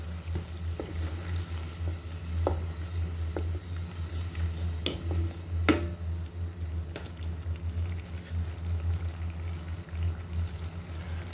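Fish curry cooks in a pan as turmeric powder goes in, a low steady sizzle with scattered sharp clicks and scrapes from stirring, close up and with no voices.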